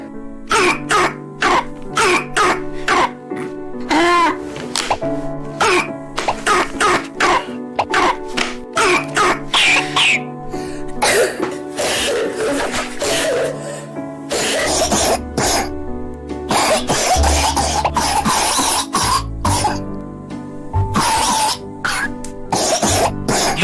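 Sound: children coughing

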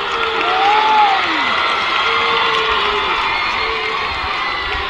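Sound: crowd shrieking as rugby player gets back up

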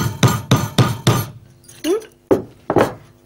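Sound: hammering a nail back in

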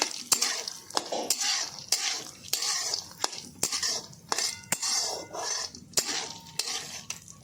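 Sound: roasting melon seeds in ghee in a pan

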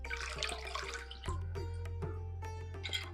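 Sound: water poured into mango rasam while cooking

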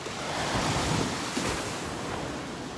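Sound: ocean waves hitting below a cliff at rising tide

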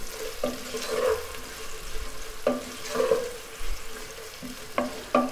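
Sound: chopped onions frying in melted ghee

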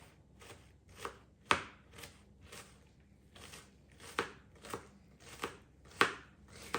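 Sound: knife finely dicing onion

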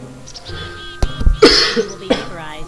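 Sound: cough

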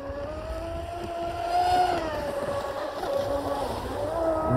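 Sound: electric RC speedboat running on water

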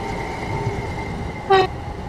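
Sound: passing train in a video game

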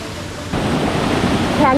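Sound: waterfall at Dangikusum, Jhargram

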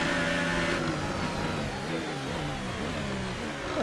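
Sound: F1 car engine with DRS opened, F1 2018 video game

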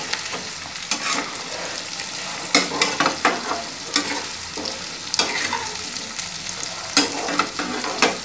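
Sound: frying cauliflower and potato while stirring

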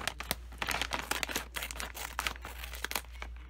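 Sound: potato snack bag being cut open with scissors

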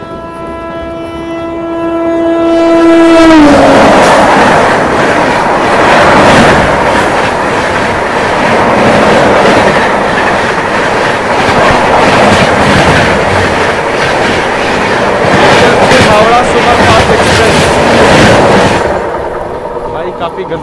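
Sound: Yesvantpur Howrah superfast express train passing at speed

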